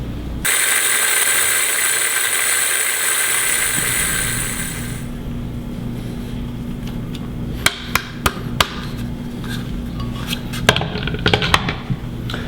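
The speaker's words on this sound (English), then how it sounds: "let's get these seeds blended into a fine powder" A blender grinds seeds into a fine powder, starting with a loud, steady high motor whine for a few seconds before dropping to a lower churning rumble with scattered clattering knocks near the end.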